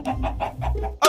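Minecraft chickens cluck in a rapid series of short, close bursts over a low background hum, ending with a sharper squawk.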